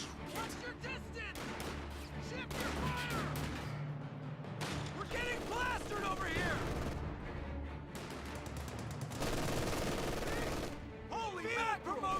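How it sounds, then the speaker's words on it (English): Wehrmacht sniper firing in a Company of Heroes 2 battle, sharp shots cutting through a busy mix of machine-gun bursts and explosions, with someone talking over the fighting. "Wehrmacht sniper firing away"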